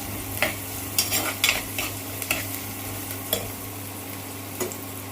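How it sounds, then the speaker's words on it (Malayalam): Chopped onions and green chillies fry for a Kerala-style chilli curry, giving a steady close sizzle in a pan broken by occasional clinks and scrapes of stirring. "നമുക്ക് അരിഞ്ഞ് വെച്ച സവോളയും പച്ചമുളകും ഇട്ട് കൊടുക്കാം."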